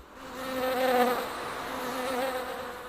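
Honeybees buzzing steadily in a continuous, fairly close drone that swells and eases slightly, with no voices.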